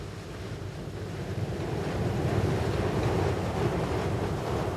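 Small waves washing up onto a sandy beach, a continuous rushing wash of surf that swells slightly midway, mixed with some wind buffeting the microphone.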